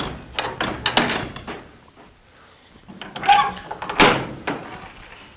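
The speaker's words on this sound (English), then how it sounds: "Drop the tailgate." Horse trailer tailgate being dropped, a few knocking and rattling clunks of the gate followed by a louder scraping, banging drop, close by with no talk.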